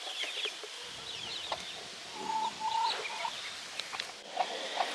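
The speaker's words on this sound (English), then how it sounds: "these chickens have 5 acres and they're running to see if somebody got a morsel of something" Free-ranging chickens on five acres cluck and murmur in short bursts against an outdoor background, with a few sharper calls rising above the steady ambient noise.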